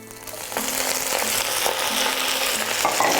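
Broccoli rabe and garlic sizzling and crackling steadily in hot oil in a pot, a continuous bright hiss with occasional stirring sounds, close up and fairly loud.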